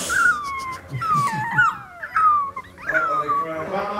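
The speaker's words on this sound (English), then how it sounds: "Little puppy. It's okay, little puppy." A puppy whimpers and whines in drawn-out, sliding high cries up close, broken by short yips, with a voice murmuring underneath.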